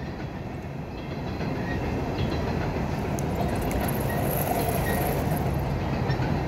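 A BNSF train rolls past on CSX tracks, a steady, loud, continuous rumble and rush of wheels and cars that lasts throughout with no pauses.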